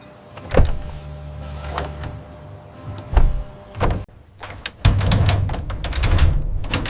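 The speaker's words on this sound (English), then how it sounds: "I open the door." A door being opened: clattering handle clicks and dull thunks, then a sustained mechanical rumble and rattle, loud and close with no voices.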